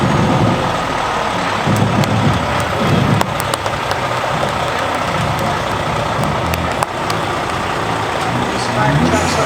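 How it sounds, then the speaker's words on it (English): Fire department trucks from the Madison Jefferson Fire Department roll past in a festival parade, a steady broad engine rumble near and loud throughout, with crowd and voices mixed underneath. "These fire trucks are all shined up."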